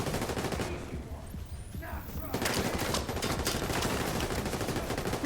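Sustained gunfire from The Division 2 rattles on as a dense, continuous barrage, easing briefly before picking back up at full strength, with no clear speech on top.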